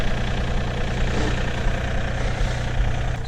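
A tractor engine idles steadily on a sunflower field, a continuous low rumble with a broad mechanical drone held close and loud throughout, no voices over it.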